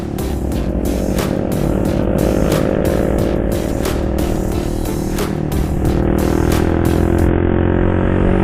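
A big, fast motorcycle roars close by, its engine revving hard and climbing in pitch through a series of rapid pulsing bursts before easing off near the end.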